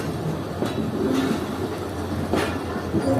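A Marvi passenger train running on a meter gauge line, arriving at a station in the Thar Desert, giving a steady rumble with a few faint wheel clacks and squeals, with no voices.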